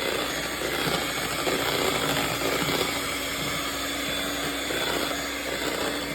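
A steady, continuous whir of an electric mixer beating cream for a cake, loud and unbroken throughout with no voices.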